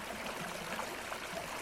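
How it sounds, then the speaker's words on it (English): Pure mountain water in a stream flows steadily in a continuous soft rush and burble, close by with no speech. "Streams just of completely pure water flowing from the heart of the mountains"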